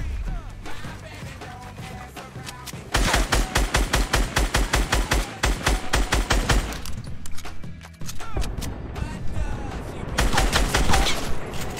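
AK rifle gunfire in Fortnite Battle Royale, rapid automatic bursts of loud shots in rhythmic volleys separated by short pauses, with game background noise.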